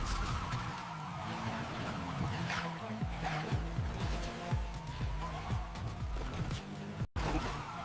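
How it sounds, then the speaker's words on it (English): An AI-generated car tears through a narrow alley, its engine roaring hard alongside tire squeal and skidding. The sound is steady and close, then cuts out briefly near the end. "She accelerates through a narrow alley, the engine roaring powerfully."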